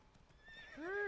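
Neighing horse with hooves clip-clopping in The Witcher 3, a rising whinny swelling loudly near the end over a low hoof patter.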